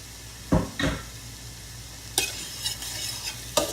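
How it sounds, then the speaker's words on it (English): Peas and carrots stirred into shrimp fried rice in a pan: a few sharp scraping, clattering strokes of a utensil against the pan over a faint steady sizzle, close and fairly quiet, with no voices. "And we're going to stir it up."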